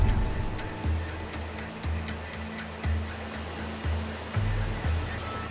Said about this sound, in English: Rocky, fast-flowing clear water.